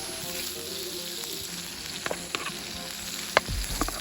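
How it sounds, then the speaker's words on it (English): Mushrooms sizzle steadily in oil on a cast iron skillet skottle, a close, continuous fry with a few sharp scraping clicks and pops near the end. "Move the mushrooms around in the oil and don't let them stick, but just let them get fried up on the bottom a little bit."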